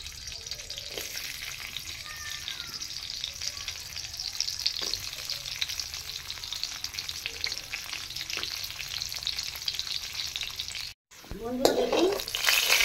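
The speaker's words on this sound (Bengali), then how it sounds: "কাজুগুলো ভাজা হয়ে গেছে, তুলে দিচ্ছি।" Cashews fry in a pan with a steady, bright sizzle and occasional stirring scrapes, and a louder burst of sizzling comes near the end after a brief gap.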